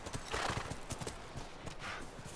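Horse hooves clip-clop in rapid, steady rhythm in The Last of Us video game, fairly close, with a faint whinny and soft ambient noise around them.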